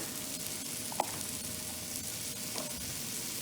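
Onion and celery sizzling as they go into hot fat in a pan, a steady close frying hiss with a couple of faint clicks.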